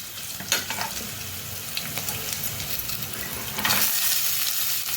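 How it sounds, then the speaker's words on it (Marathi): Garlic and onion sauté in a pan for schezwan fried rice, giving a continuous sizzle with scattered stirring scrapes and a louder burst of hissing near the end as more goes into the hot oil. "लसूण थोडासा परतल्यानंतर आपल्याला कांदा टाकायचा आहे"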